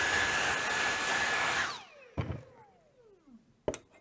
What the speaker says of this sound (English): we can also vacuum that off, ready to go again